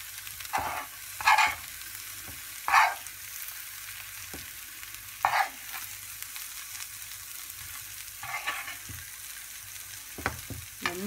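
Egg masala frying in oil, a soft steady sizzle close by, broken at intervals by brighter bursts of spattering and the clink of stirring, with no talk.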